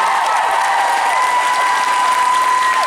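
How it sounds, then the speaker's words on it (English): Steady applause from a convention audience at a Vegas fan panel, clapping for a show's crew, dense and continuous throughout with a faint crowd murmur underneath. "A round of applause to the people who make the show,"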